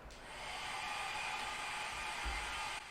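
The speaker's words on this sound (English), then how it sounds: "Hair dryer." A hair dryer runs as a steady, airy hiss with a faint whine, switching on and holding constant for nearly three seconds before cutting off, with no talk over it.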